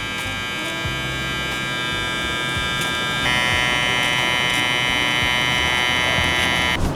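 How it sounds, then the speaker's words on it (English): Electric beard trimmer buzzing steadily and close up during self-grooming, a continuous loud whine that shifts slightly in pitch partway through as it moves over the beard, with no talking. "gonna go out with my trimmer like this, right here at the top"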